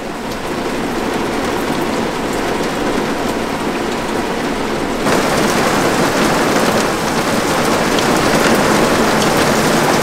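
Steady, dense rain falls at a harbour dock, a loud continuous hiss of drops on surfaces that swells slightly halfway through, with no voices.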